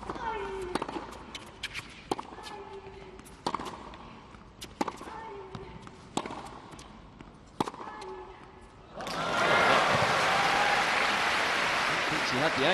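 Tennis crowd at a Beijing 2013 match applauding, a broad swell of clapping rising near the end after a stretch of sharp ball strikes and court sounds, with commentary voices underneath.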